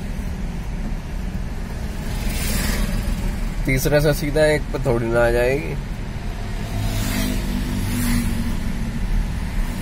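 A Tata Nano's small engine idling and running steadily during a beginner's driving lesson, a low continuous drone from inside the car with people talking over it.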